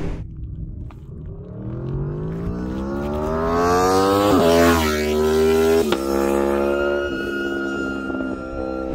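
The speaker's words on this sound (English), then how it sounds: "it also gives you one of the most beautiful exhaust notes, especially now that it's got the full titanium acro exhaust on it" Aprilia RSV4 1100 Factory motorcycle with a full titanium Akrapovic exhaust, its engine note climbing loudly through revs to a close peak as it passes, then easing and falling away.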